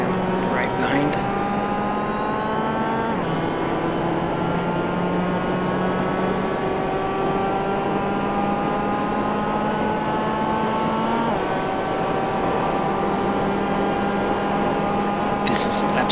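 Race car engine on board at Brands Hatch Indy, a loud continuous drone with rising and shifting harmonic tones through gear changes, under a commentator's voice.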